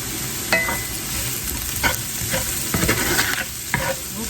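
Brussels sprouts with paprika and red pepper flakes sizzle steadily in a skillet, with intermittent scraping and stirring clatters, close and moderately loud.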